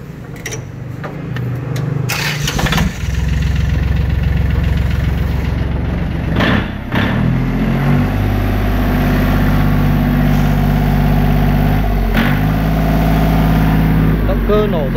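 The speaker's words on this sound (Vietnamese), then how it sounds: "Để em test máy nổ những chiếc máy lò xo chẵn cho các bác xem nhé." A Vietnamese L1-18 single-cylinder diesel engine starts with a few sharp cranking bursts, then settles into a loud, close, steady idle with a rapid rhythmic knock, briefly dipping and picking up again.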